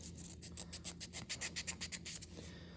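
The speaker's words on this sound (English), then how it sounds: "a little bit of rust right there. I think I'll take that off." Rust is rubbed and scraped off a metal part in quick back-and-forth strokes, a close, rhythmic rasping scratch repeating about a dozen times before easing off.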